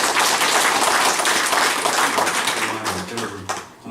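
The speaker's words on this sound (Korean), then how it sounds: "그분들에게 박수 한번" A church congregation at a Sunday worship service claps to welcome visitors, producing dense, loud applause that fills the room and slowly thins toward the end, with some voices mixed in.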